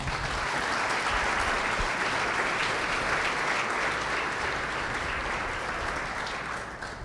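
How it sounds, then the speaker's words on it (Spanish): A church congregation applauds steadily for several seconds, a dense, fairly loud wash of many hands clapping that thins out slightly at the end. "Démosle un aplauso al Señor."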